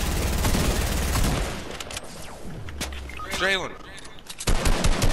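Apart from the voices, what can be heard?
gunfire in a video game shootout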